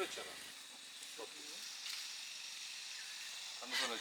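Oil poured into a pan while cooking outdoors in a forest, a soft continuous sizzle and hiss at low level with faint scattered clinks and rustles.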